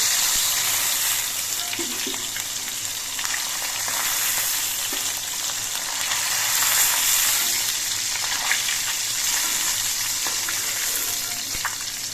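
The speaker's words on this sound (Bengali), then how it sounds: "সবগুলো মাছই আমি একইভাবে ভেজে নিচ্ছি।" Pieces of parshe fish fry in hot oil, giving a loud, continuous crackling sizzle throughout with no break and only slight swells.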